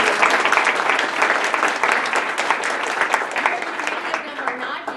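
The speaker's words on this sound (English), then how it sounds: "let us give you a round of applause" Audience applause at the welcome and opening address of a history event, a steady dense wash of clapping held throughout the whole stretch, fairly loud and close with a slight fade toward the end.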